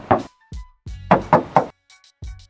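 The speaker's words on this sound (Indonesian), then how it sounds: "Kita coba tes ketok." Knocks on the original metal body of a Mitsubishi box freezer truck: a few sharp hollow raps, then a quick triple knock and a last rap, close and loud with tinny resonance, separated by brief silence.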